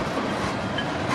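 A CPKC freight train, symbol 421, rolls past at steady volume, a continuous broadband rumble with faint wheel clatter and no pauses.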